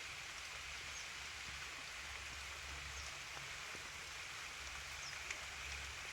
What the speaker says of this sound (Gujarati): હવે બધા ભાગતા છે, વરસાદ ચાલુ થઈ ગયો.